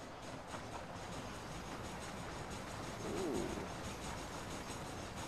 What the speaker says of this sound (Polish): Lubię ten pociąg.